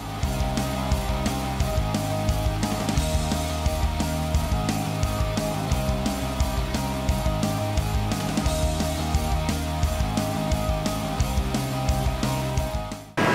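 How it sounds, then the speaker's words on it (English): Spray gun blasting blue paint onto a helmet inside a paint booth, a steady loud hiss and rumble with the booth's noise running throughout, unbroken for the whole stretch. "So let's get out the spray gun and give it a bit of a blast."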